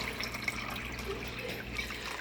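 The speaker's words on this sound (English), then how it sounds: "that's gonna slowly drip right on in to the water" Aquarium water trickles and drips steadily back into a tank, a soft continuous watery patter with occasional brighter drops, close and fairly quiet.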